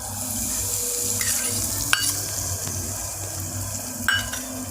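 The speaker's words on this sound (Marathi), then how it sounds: "त्यानंतर मी यामध्ये दही ॲड करते आहे." Yogurt goes into a pan of cooked tomatoes, giving a soft, wet sizzle and a few stirring clinks and scrapes against the pan, close and fairly quiet, with no voices.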